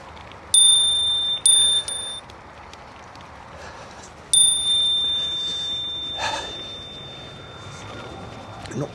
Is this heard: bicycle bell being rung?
yes